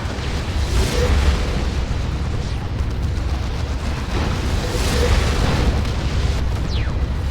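Rocket run explosions rumble in a Warhammer 40,000: Dawn of War 2 3v3 battle, a steady wash of booms and bursts layered into dense, continuous battle noise without distinct pauses.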